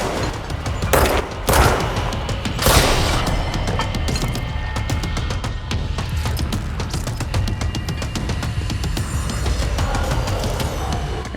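Dense, rapid gunfire from a weapon in the video game Control, with sharp shots repeating steadily throughout and a few heavier bursts near the start, loud and close with no talking.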